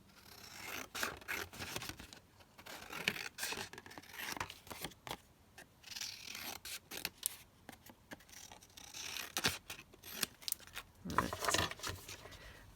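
Scissors cutting down a paper stamp print for an art journal, a close series of crisp snips and paper rustles in irregular bursts, fairly quiet with no talk.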